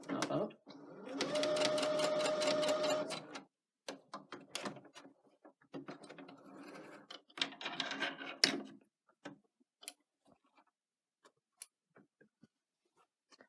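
A domestic sewing machine stitches with a longer stitch length, running in a steady whirring burst of about two seconds, then in shorter stop-start runs and scattered clicks of the machine.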